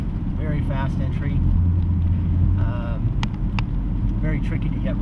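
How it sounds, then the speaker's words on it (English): A DP prototype race car at about 175 mph on the Road America circuit gives a steady, loud onboard engine roar with a low rumble throughout, while someone talks over it. "We're approaching in the DP car at about 175 mile per hour range."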